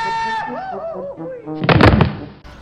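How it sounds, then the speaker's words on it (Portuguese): A gunshot in the video game Resident Evil 5 comes as a loud burst with a booming tail just after a stretch of game music, followed by quieter game sounds. "Ela deu um tiro lá em cima e o cara caiu."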